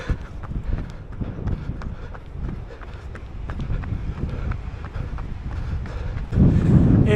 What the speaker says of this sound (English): It is so windy.